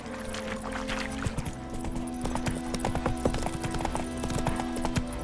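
Roach, a horse in The Witcher 3, gallops with quick, rhythmic hoofbeats, close and clear over a steady outdoor background hum.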